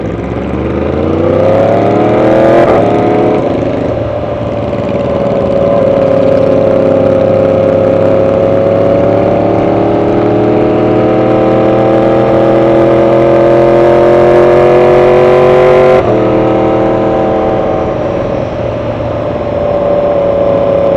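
A loud motorcycle engine drones steadily close by, its pitch climbing and settling as it accelerates, with a brief thump partway through.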